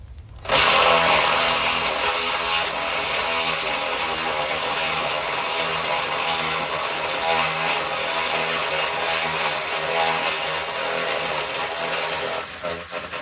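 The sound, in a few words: power tool loosening bolts on a Ford Fusion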